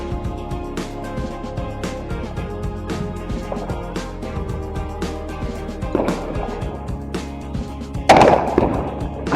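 Bonfire Night fireworks, a scattering of sharp distant cracks and pops at irregular intervals over a low background murmur, with a louder burst near the end.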